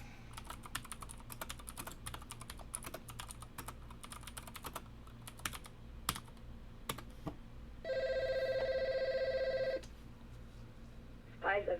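A phone rings with a steady electronic tone for about two seconds near the end, cutting through continuous, close computer keyboard typing and clicking during a livestream.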